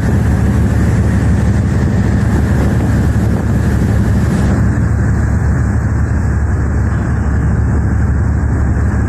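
Steady, loud wind roars across the microphone on a ship's deck, with a low engine rumble underneath, constant throughout with no voices.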